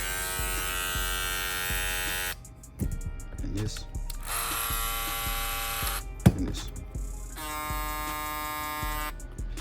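Barber hair clippers run in turn during a sound test, each giving a steady high electric buzz, broken by short clicks as they switch, with brief talk between them.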